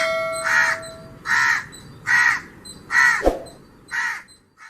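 A crow caws five times at a steady, evenly spaced rhythm, loud and close, with a single sharp knock between the fourth and fifth calls.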